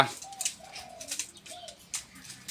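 A large decoy bird of mountain stock, likely a dove, gives several soft, rounded cooing notes at a moderate distance, with light rustling and scattered clicks around them and no voices.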